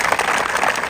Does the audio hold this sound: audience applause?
yes